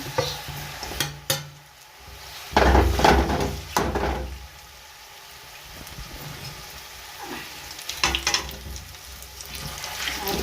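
Dates are stirred and roasted in hot ghee in a pan, with a soft sizzle running throughout and bursts of scraping and stirring clatter at a few points.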